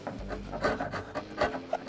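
A metal chisel scrapes heavy glue off wood in repeated rough strokes, a steady rasping rhythm with no talking.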